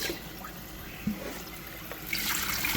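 Water runs and trickles steadily while homemade butter is rinsed by hand, a continuous close wash of liquid with a few small splashes and a louder gush near the end.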